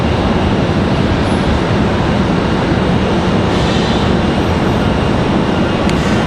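A Southwest airliner takes off from the runway at Raleigh-Durham International, a steady, loud broadband roar that fills the whole stretch without letting up.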